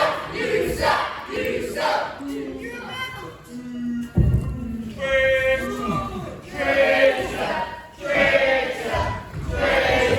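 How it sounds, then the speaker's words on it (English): A wrestling crowd at Geyser Theatre chants loudly and rhythmically at wrestler Jepson, calling him a traitor, a dense roar of many voices in repeated bursts filling the hall. "The crowd here at Geyser Theatre calling Jepson a traitor."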